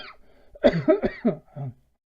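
A short burst of harsh coughing, several quick coughs in a row, close to the microphone with no speech.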